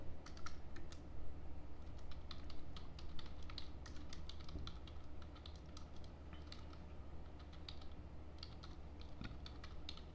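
Steady typing on a computer keyboard fills a quiet room, with rapid, uneven bursts of key clicks and short pauses over a low constant hum and no voice.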